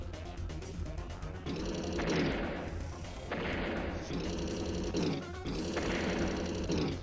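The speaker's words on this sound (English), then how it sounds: "Artillery hits the battlecopter a couple times." Artillery fire in the Advance Wars by Web video game, three repeated game blasts with rising bright effect tones, each about two seconds apart, heard alone.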